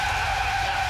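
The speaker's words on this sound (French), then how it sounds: "Mais on freine, Bob, on freine!" A car brakes hard and skids, a loud, steady tire screech with engine rumble filling the whole second without a break.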